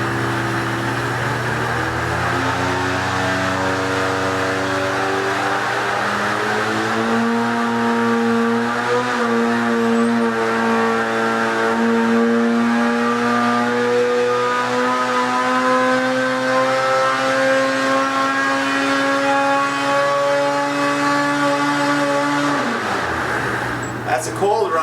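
Engine on a dyno during a cold-run acceleration test, loud and steady, its pitch rising smoothly for over twenty seconds before cutting off abruptly. A voice speaks faintly beneath the roar.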